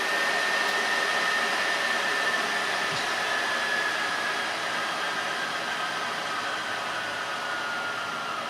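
A PS4 Pro cooling fan in need of replacement roars loudly and steadily, a constant rushing whoosh with a faint whine, running alone without pause.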